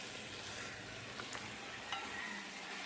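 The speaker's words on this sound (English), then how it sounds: "I'm gonna stir the pot." Jamaican curry chicken is being stirred in a pot over an outdoor fire, a faint steady sizzle with soft scraping, quiet and close, with no talking.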